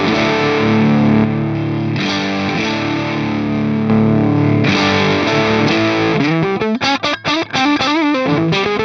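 Electric guitar through an Electric Eye Audio Mud Killer overdrive pedal set to a bluesy drive, with loud sustained distorted chords followed by a quicker choppy riff of separate picked notes near the end, close and alone.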